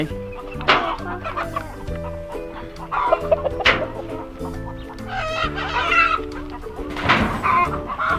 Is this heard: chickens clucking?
yes